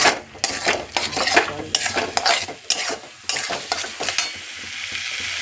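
Vegetables and river fish frying with ground spices in a pan, loud close sizzling broken by repeated scraping and clattering stirring strokes, irregular bursts that settle into a quieter sizzle at the end.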